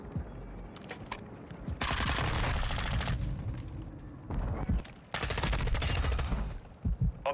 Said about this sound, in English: is my gun just bad?